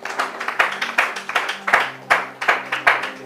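Steady rhythmic clapping from a church congregation during a Bible teaching, roughly two or three sharp claps per second, loud and close, with musical tones sustained underneath.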